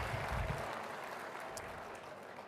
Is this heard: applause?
yes